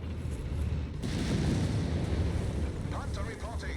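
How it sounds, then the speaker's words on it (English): A church collapsing under fire in Company of Heroes 3, heard as a sudden loud rumbling crash that swells into sustained low debris noise, with battlefield clutter and a game commentator talking over it. "And the church is now being destroyed by UmirinBrah."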